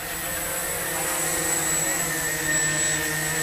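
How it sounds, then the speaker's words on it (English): A small quadcopter drone hovers and flies close by, a continuous high-pitched, whining buzz with steady tonal hums, fairly loud and unbroken, and no one speaking. "And there's the quadcopter flying right in front of us"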